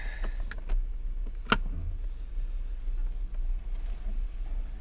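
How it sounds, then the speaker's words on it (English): A BMW engine idles after a fuel pump replacement, a low, steady rumble inside the car, with a few clunks and clicks near the start. "The idle is 100 times better."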